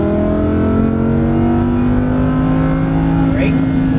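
Lamborghini Huracan LP610-4 engine pulling hard at full throttle out of a left-hand corner on a track, its loud, steady tone climbing continuously in pitch as the car accelerates, with a driving instructor's voice speaking over it.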